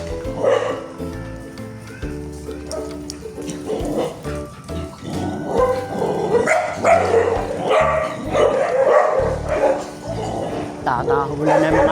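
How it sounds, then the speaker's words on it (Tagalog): Dogs barking in a back-and-forth series of yips and barks, fairly close, mixed with people talking over them throughout. "Tatahulan na yung mga aso."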